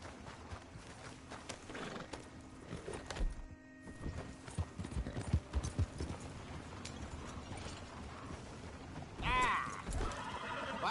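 In a Red Dead Redemption game scene, a horse whinnies and its hooves clip-clop along with clattering mechanical rattles, the neigh rising clearly near the end over a quiet, busy background.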